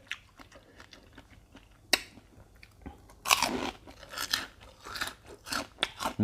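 Crunchy bites of fried pork rinds with fat attached, eaten alongside spicy papaya salad with rice noodles and bitter gourd, give sharp close crackles and chewing in irregular bursts, quiet at first and then denser and louder, with no talking.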